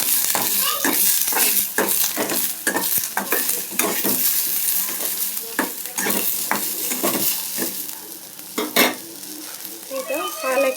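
Spinach (palak) sizzling in a pan while a spoon stirs and scrapes it in quick, repeated strokes, loud and close throughout, with a busier flurry of scraping near the end.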